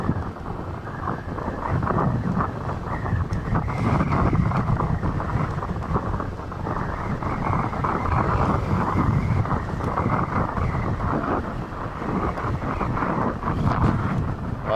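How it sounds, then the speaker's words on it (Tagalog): Strong wind batters the microphone along the seashore in Iloilo, a constant low roar that swells and eases in gusts, with no voices over it. "Wow, lakas sa hangin"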